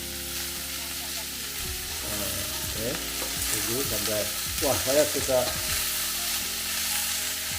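Marinated bitter melon sizzles and fries steadily in a pan, with stirring scrapes and crackles over a continuous hiss while someone speaks briefly in Indonesian.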